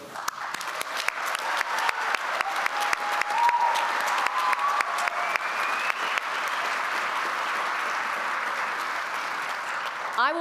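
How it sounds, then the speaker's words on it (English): Sustained applause from a large crowd at a community college commencement ceremony, dense and even clapping that continues for the whole stretch. "Graduates, we did it, and we applaud you."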